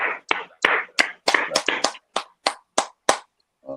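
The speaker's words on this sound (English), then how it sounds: "we definitely want to applaud them and shout out to them" Close, sharp hand claps from a few people on a podcast, about a dozen distinct claps in an uneven rhythm over a few seconds before stopping.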